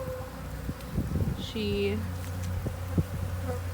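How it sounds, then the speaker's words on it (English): Honey bees buzzing faintly and steadily around a new nuc hive being installed, a low continuous hum with one closer bee flying past, along with handling clicks and rustles and a brief spoken word. "doing my best not to squish any bees, my new little friends"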